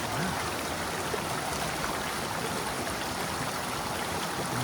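Creek water flows steadily beneath ice on a snowy canyon hike, a continuous close rushing hiss without clear breaks.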